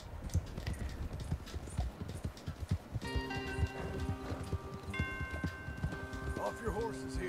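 Steady clip-clop of horse hooves runs throughout, with game music tones and voices layered over it, from the video game Red Dead Redemption 2.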